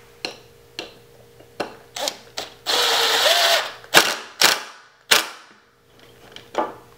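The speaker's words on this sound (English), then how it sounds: "I'm ready to drive in the screw with my impact driver" Several sharp bursts of an impact driver hammering a number 8, 2.5-inch screw into a wooden step stool, with a sustained rattling whine in the middle, then a few more short clacks. Close and loud, no talking.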